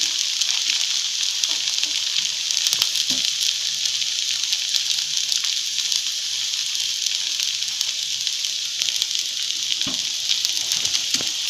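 Neer dosa frying on a hot pan with oil drizzled over, giving a loud, dense, continuous sizzle with fine crackling throughout, close and alone.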